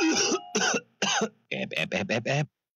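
Several harsh coughs or throat-clearing bursts from a single person, close and fairly loud, in an uneven rhythm with short pauses between them and nothing else audible.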